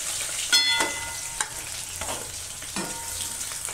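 Fried rohu fish pieces stirred in a wok of hot oil, a few distinct scraping strokes of a spatula cutting through a continuous close sizzle.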